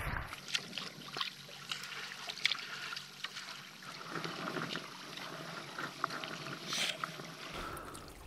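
A kayak paddles across the Ozette Lake channel. Faint water swishes and gentle trickles sound from the paddle strokes against a quiet outdoor background.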